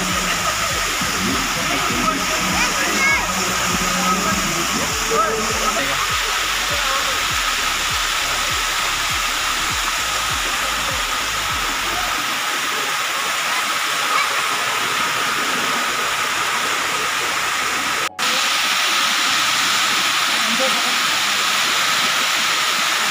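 The Haticherra waterfall near Silchar, where people bathe on slippery rocks, roars as a steady, loud rush of falling water. It stays constant and fills the whole scene without a break.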